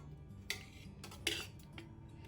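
A spoon scrapes and clinks against a cooking pan while tamarind paste is stirred with oil, giving a few soft, close metallic knocks at a quiet level.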